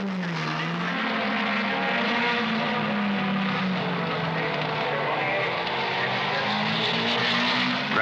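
Several 1960s Formula One race cars at the Reims Grand Prix roar past, a loud continuous engine drone with pitch sliding up and down as cars pass close by, no voices.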